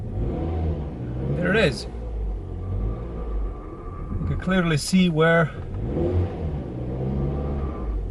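A car idles low and rumbles as it backs slowly into a garage with a motorcycle parked inside, while someone talks over it from close by.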